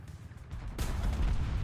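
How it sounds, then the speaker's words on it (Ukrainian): A tank cannon fires once in War Thunder, a sudden loud blast midway through following quiet game ambience, its rumble lingering to the end. "впіймав гармату і все-таки вистрілив"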